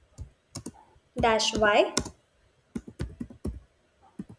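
Key clicks from commands being entered on a computer keyboard, a run of short sharp taps in bursts, close and moderately loud, with a person speaking briefly between them.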